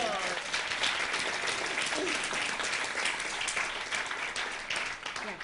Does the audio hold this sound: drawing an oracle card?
no